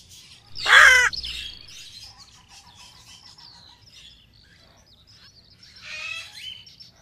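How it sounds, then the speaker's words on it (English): Birds chirp and call, with one loud squawk early on, then scattered softer tweets and song phrases over a quiet background, with no talking. "Beautiful birds."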